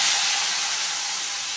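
Water rinsed from a blender jar hits a hot pan during cooking of potatoes, onion greens and poppy seed paste, giving a loud, steady hissing sizzle that slowly fades.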